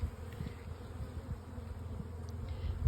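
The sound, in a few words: honey bees active around the hives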